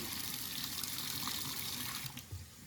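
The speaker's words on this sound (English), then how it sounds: "Now we got a steady stream of water." A steady stream of water runs from a sink faucet after a pipe repair inside a wall, giving a continuous close splashing rush with a brief gurgle near the end.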